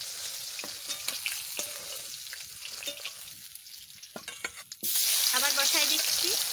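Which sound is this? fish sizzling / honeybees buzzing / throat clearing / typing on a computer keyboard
fish sizzling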